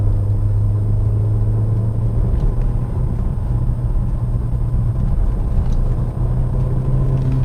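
A 1st-generation Audi S3 sedan cruises in third gear, its engine holding a steady low drone with road rumble underneath, loud and continuous from inside the cabin without speech.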